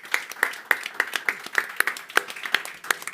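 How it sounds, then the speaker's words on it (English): Audience at a blockchain conference gives the organizing team a brief round of applause, with distinct hand claps in a steady patter, fairly close and clear. "So maybe a big round of applause for the organizing team standing behind us."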